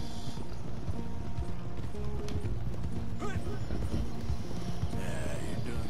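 Horse hooves clip-clop steadily in the Red Dead Redemption 2 video game, a continuous rhythmic patter beneath a spoken voice and game ambience.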